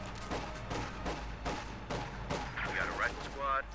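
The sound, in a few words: sniper gunfire in video game Company of Heroes 2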